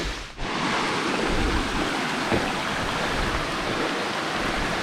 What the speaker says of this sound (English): there's water running down it just from the rain